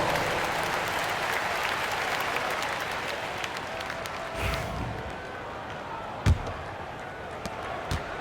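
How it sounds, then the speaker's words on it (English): A crowd applauds and cheers steadily in a large arena in the basketball video game NBA 2K25, a dense wash of clapping with a couple of sharp thuds and bounces cutting through. "Give yourself a round of applause."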